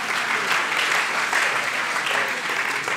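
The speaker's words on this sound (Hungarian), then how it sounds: "Kérlek, hogy fogadjátok őket szeretettel, egy nagy tapsal, jó?" A church congregation applauds warmly for a newly introduced family, a dense, steady wash of many hands clapping close by for the full three seconds with no break.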